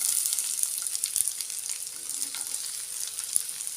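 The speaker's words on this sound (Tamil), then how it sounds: "வெங்காயம் நல்லா வதங்கி வரட்டும்" Onions sizzle and crackle continuously in a pan, a close, even frying hiss with occasional pops.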